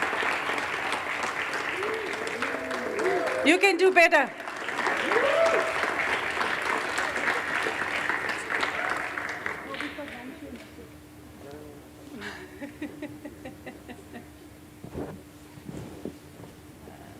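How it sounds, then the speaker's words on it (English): An audience at an international lecture series panel discussion gives the panelists a warm round of applause. It is dense and sustained for about ten seconds, then thins out under a speaking voice. "please give a warm round of applause to our panelists"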